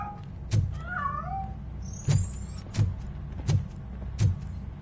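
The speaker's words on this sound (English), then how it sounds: "That cat must be hiding inside." A cat in the Robocop PS5 game gives a brief meow, followed by a series of sharp, evenly spaced thumps or footsteps over a low steady hum.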